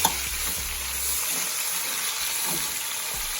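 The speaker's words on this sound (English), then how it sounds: "So now we are going to put our 3 pounds of meat in here." Three pounds of meat fry in bacon grease in a pot, giving a steady close sizzle and hiss with a soft thump as it goes in at the start, no talking.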